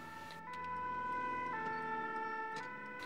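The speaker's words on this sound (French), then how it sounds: "L'ambulance part donc en urgence près de la place Castellane." An ambulance siren wails in a steady two-tone pattern as the vehicle leaves on an emergency call in Marseille, heard clearly at moderate distance over faint traffic noise.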